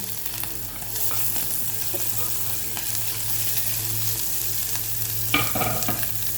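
Onion frying in oil with mustard seeds and cumin makes a loud, continuous sizzle with scraping stirs throughout, a low steady hum of a burner underneath, and a sharp clatter near the end.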